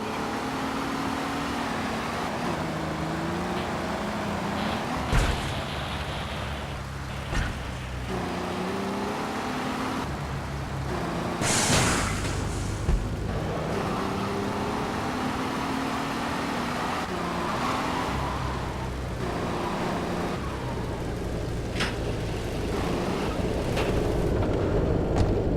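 A car driven through the Portland docks in the video game GTA3 gives a continuous engine drone that rises and falls with shifting revs, broken by occasional thumps and bursts.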